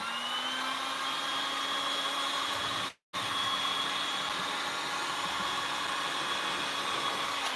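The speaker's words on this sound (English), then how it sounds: "Watch how I'm moving my heat gun." A heat gun blows steadily over a paper transfer with a constant loud whooshing roar. It cuts out for a split second, then resumes at the same level, with no voices.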